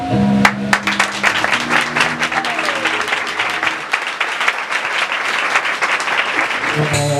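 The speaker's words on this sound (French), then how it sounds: "On n'est pas satisfait de l'applaudissement" Audience applause at a graduation ceremony for a professional school's first class, with dense, continuous clapping from a large crowd holding steady and loud throughout, a few voices briefly rising over it near the start and end.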